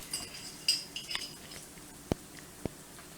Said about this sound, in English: we're gonna put some jam on the toast